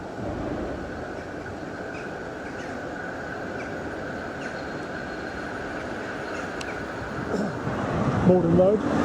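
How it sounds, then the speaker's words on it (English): A Croydon Tramlink tram arrives at a stop: a low, steady rolling rumble over background hum that swells louder toward the end, with a brief metallic squeal as it draws in. "Next tram due in a minute."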